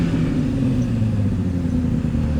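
A vehicle engine revs with a steady, close, loud rumble that holds for a couple of seconds without any talk.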